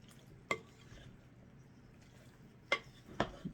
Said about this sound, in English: Now we'll get that stirred up.